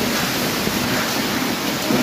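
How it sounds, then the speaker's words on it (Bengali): Heavy rain pours down in a steady, loud, dense hiss, constant throughout with no pauses. "তো দেখতে পাচ্ছ কত জোরসে বৃষ্টি হচ্ছে।"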